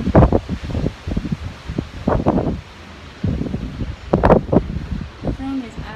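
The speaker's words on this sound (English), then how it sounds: "What did y'all think about that wind? It was crazy." A strong windstorm gusts and rushes in uneven bursts around the microphone, with people talking over the roaring wind.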